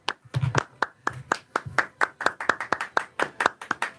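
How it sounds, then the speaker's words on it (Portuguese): A church congregation claps for David after his testimony: a run of sharp, fairly evenly spaced claps that sound like a small group rather than a large crowd. "Vamos dar uma salva de palmas aqui para o David?"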